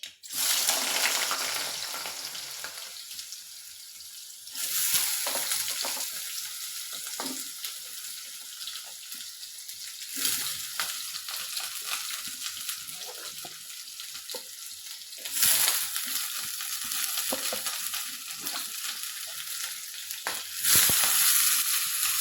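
Potatoes fry in hot oil in a pan, loud and steady sizzling with crackling throughout, with periodic bursts of stirring and scraping and no talk.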